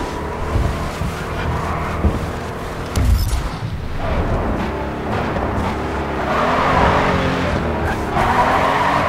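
A race car in the video game Grid 2 breaks traction and skids out, a loud continuous engine roar with squealing tires sliding across the surface, steady and close with no pauses.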